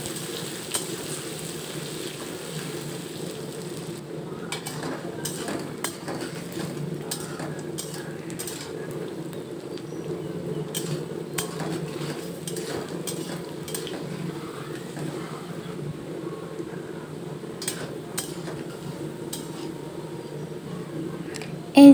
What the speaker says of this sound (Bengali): প্রথমেই আমি আলুগুলো একটু সুন্দরভাবে তেলের উপরে ভেজে নেব।